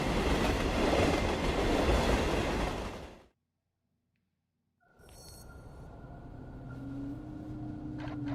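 A train in the MAW video game roars loudly along the tracks, then cuts to near silence, and comes back as a quieter rolling rumble with metallic tones and squeals, with no voices.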